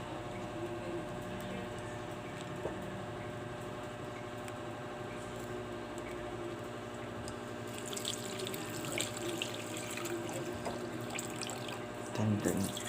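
Tap water runs steadily into a bowl while pork is washed, a continuous close splashing stream with brief clatters of handling near the end.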